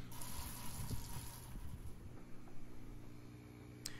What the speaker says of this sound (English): Spray rinsing before dip rinsing is really good to make your rinsing baths last a lot longer.